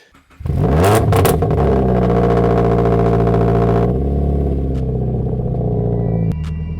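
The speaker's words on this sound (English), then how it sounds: "you can hear the exhaust of this one and you can hear how broken it is" A Toyota GT86 or Mazda MX-5 engine starts and idles loudly up close, its broken exhaust rumbling and rattling with a rough, uneven drone.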